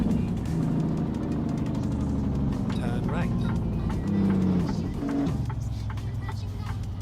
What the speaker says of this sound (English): Damn, that engine brake sounds so good.